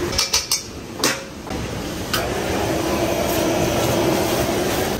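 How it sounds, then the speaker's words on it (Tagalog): Egg hitting hot oil in a wok, with a few sharp metal clanks of utensils at the start, then a steady, loud sizzle and crackle that keeps going to the end. "So may mantika, mainit na wok, mantika, egg."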